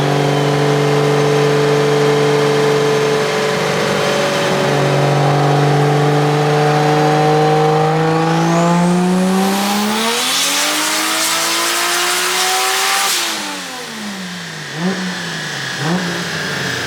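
A 2JZ-swapped BMW E36 runs a high-boost dyno pull, the engine note climbing steadily and loudly to a screaming peak before cutting off and settling into a lower burble with a couple of blips.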